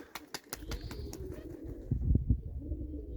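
Soft, low pigeon coos murmur close by, with a few faint ticking taps at the start and quiet ambient background.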